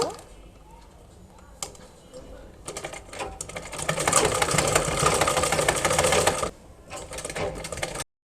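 A sewing machine stitches along the fabric waistband of a six-panel petticoat, running in short bursts and then one longer steady whir before stopping, close and fairly loud.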